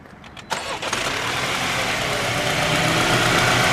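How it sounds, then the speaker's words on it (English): A 2019 Mini Cooper Clubman S with a 2-liter turbo engine cranks briefly and fires up, then settles into a loud, steady idle close by. "we're going to go ahead and fire this one up for you"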